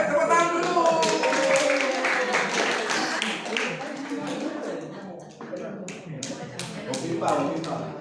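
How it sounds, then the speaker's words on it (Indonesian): Group applause at an informal gathering, many hands clapping briskly and close by for the full stretch, with voices talking over it. "ayo tepuk tangan dulu"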